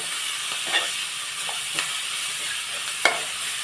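Kozhuppa thoran being stirred in a hot pan, a steady sizzle and fry hiss underneath a few scraping strokes of the spoon against the pan, close up and continuous.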